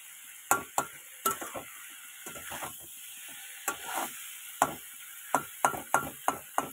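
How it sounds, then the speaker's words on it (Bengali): Boiled potatoes are mashed and stirred in a pot with a spoon, producing a dozen or so sharp metallic scrapes and knocks at an uneven rhythm, close and clear over a faint background hiss, with no voices. "একটু আলুগুলো ঘেটে ঘেটে দিলে না একটু মাখা মাখা হবে, সেজন্য একটু ঘেটে ঘেটে দিচ্ছি"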